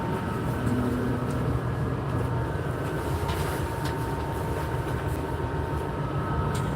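Class 160 Turbo diesel train idling at Newcourt station, a loud, steady engine rumble with a constant drone and faint higher whines, no pauses.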